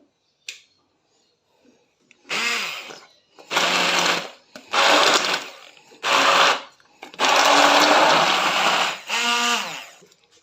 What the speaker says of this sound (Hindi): अब हम इसको स्टिक ग्राइंडर के साथ अच्छे से ग्राइंड करेंगे।